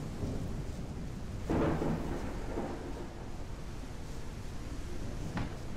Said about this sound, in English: Raining forever here.